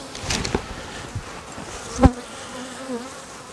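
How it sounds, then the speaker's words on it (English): Honey bees swarm around an open beehive while frames are lifted out, giving a soft, steady buzzing hum close by, with a few brief thumps and knocks from handling the hive. "Okay, lots of bees on this one."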